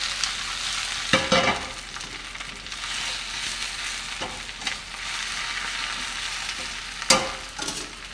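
Spinach sizzles and fries in a pan, a steady close crackle with a few louder stirring bursts around the second and seventh seconds; no talk over it.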